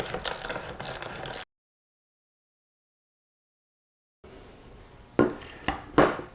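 A thread tap is backed out of a drilled hole in a Powerglide drag race transmission part, making short metallic ratcheting clicks close by, followed by a silent gap and then louder clanks of metal handling.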